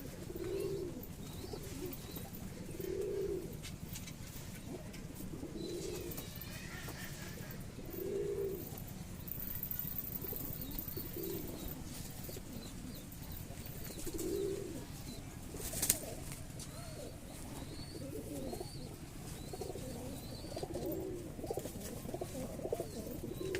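Kalshera pigeons coo in soft, repeated low calls at regular intervals, fairly close, over a steady background hum with a faint click partway through.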